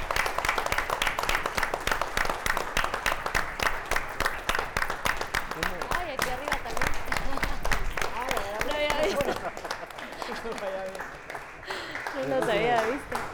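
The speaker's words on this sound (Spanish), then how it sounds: "Bueno, cerremos con un aplauso" Applause closing a live broadcast with Olympic medalists, steady clapping for roughly nine seconds, then fading as a voice speaks over the thinning claps.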